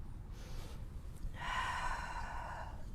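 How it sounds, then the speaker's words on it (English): Deep yoga breathing outdoors on a field: a slow inhale is followed by a longer, louder audible exhale, close and breathy, with no talking. "Breathing in and out."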